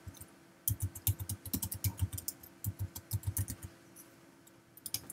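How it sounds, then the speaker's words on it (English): Typing on a computer keyboard comes through as quick, close clusters of crisp key clicks in uneven bursts with short pauses, fairly quiet, with no talking. "Type in your password."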